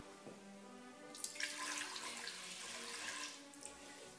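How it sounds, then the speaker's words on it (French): Half a litre of water poured into the inner pot of a GM H Deluxe pressure cooker, a steady close splashing stream that starts after a brief pause and runs to the end. "nous allons introduire un demi-litre d'eau dans la cuve"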